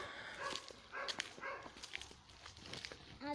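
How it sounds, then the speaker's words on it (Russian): Several dogs bark somewhere far off around a quiet rural farmstead with a rose nursery, giving short, scattered, fairly faint barks over soft outdoor ambience. "тишина, только где-то собачки гавкают."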